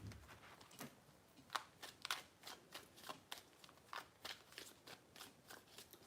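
Tarot cards being shuffled by hand, a rapid series of crisp papery riffles and taps repeating steadily, close and moderately loud with no voices.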